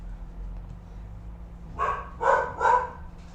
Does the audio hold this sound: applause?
no